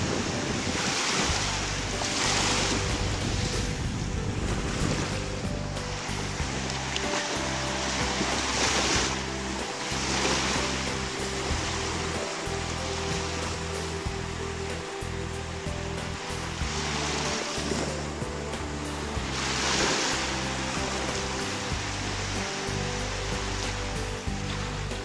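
Ocean surf rolls onto the beach at Destin, Florida, in November, with waves breaking in a steady wash and periodic swells, all under constant wind buffeting close to the microphone.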